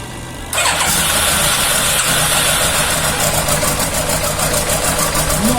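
A Yamaha FZR 1000 EXUP motorcycle engine, freshly restored, cranks and fires half a second in, then settles into a loud, steady, close idle with no talk.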